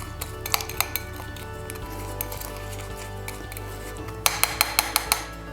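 A spoon or fork mixes lemon marinade in a bowl for a barbecued leg of lamb with light clinks and scraping. A faster burst of crisp taps comes near the end over a low steady hum.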